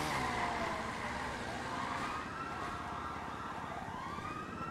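A police siren wails continuously in GTA roleplay, its tone rising and falling over a steady background of traffic noise.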